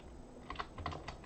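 Computer keyboard typing during a Linux command-line session, a short burst of several quick, close key clicks with no talking.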